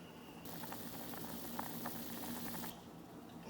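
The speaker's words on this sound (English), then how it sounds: "So we're gonna bring this back to a boil" Vegetable ramen broth coming back to a boil in a pot: a faint, steady bubbling and hissing simmer with small pops throughout, quiet and without talk.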